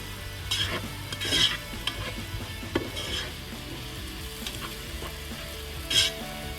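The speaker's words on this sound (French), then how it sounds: "Je vais mettre mes oignons et mes 2 gousses d'ail que j'ai hachées avec les oignons directement. Donc là je mélange." Chopped onions and two minced garlic cloves frying and being stirred in butter and olive oil for a pressure-cooker chicken curry, giving a steady close sizzle with a few brighter scrapes of the spoon, and no talking.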